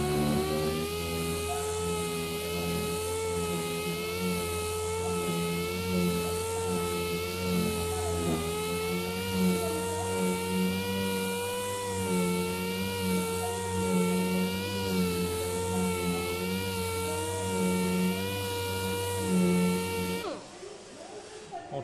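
A sander with a SIA 120-grit abrasive disc and full dust extraction works wood, giving a loud, steady high whine with a slight wavering pulse before it cuts off abruptly near the end.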